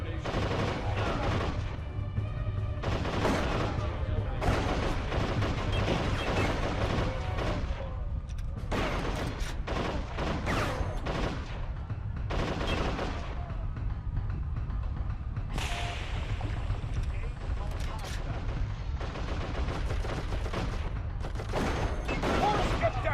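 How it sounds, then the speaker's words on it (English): Auto turrets in the video game Darkest of Days fire long, loud bursts of automatic gunfire with sharp cracks and whooshes, recurring across the whole stretch, with some voices mixed in. "Those auto turrets will tear you to pieces!"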